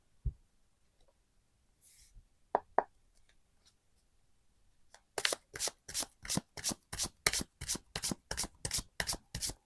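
Tarot cards being shuffled, a few soft taps and riffles at first, then a long run of rapid rhythmic riffle bursts, close and fairly loud with no talking.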